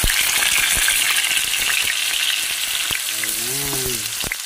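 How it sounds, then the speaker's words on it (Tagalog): Tofu fries in a pan with a loud, constant sizzle and crackle, punctuated by occasional sharp pops and a brief faint tonal sound near the end. "Magprito tayo ng tukwa para ilagay natin sa ating gulay na upo."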